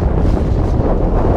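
Steady, blustery cold wind buffets the microphone on a muskie fishing trip, with a constant low rumble, close and loud throughout, with no voices.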